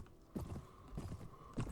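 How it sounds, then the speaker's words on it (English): Horses gallop through a mounted skirmish in the video game Mount and Blade: Warband, quick clopping hoofbeats arriving in uneven bursts at moderate volume. "Got a little bit of a horse skirmish going on at the moment, for sure."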